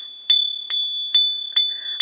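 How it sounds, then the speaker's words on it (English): A small bell is struck four times in steady succession, each strike a bright metallic ping with a sustained ringing tone that carries between hits, close and clear with no talking. "I have to hit the bell."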